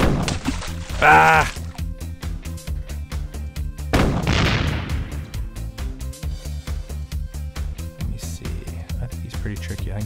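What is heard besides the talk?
big shot cannon firing in Webkinz Bathtub Battles video game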